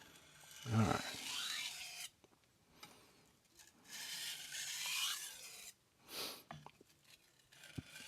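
Knife sharpening on a 1000 grit sintered vitrified whetstone, a Tsunehisa 165mm blade scraping in long rasping strokes, several passes separated by short pauses, close and fairly quiet with no talk.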